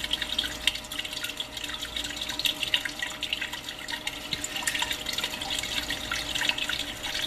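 Water running steadily into a blue bowl used for processing gold concentrate, a continuous gentle trickle and splash, close and fairly quiet with no talk.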